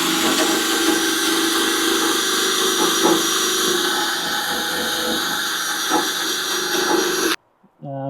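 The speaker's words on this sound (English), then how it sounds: "just using the drill for this application, it's quite good actually of getting this rust off." A power drill fitted with a Scotch pad strip disc grinds rust off a car body during an Alfa Romeo GTV restoration, a steady close abrasive whir that cuts off abruptly near the end.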